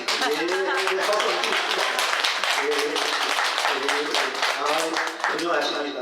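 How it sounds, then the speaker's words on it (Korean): Worshippers at a Buddhist dharma talk in a Korean temple service break into dense, steady applause, close and continuous for several seconds, with speech mixed in. "예, 박수"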